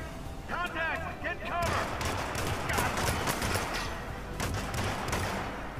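Rapid gunfire in the stealth video game Hitman, a dense crackling barrage of shots with thudding impacts, loud and sustained after an opening stretch of warbling tones, with a player's voice mixed in.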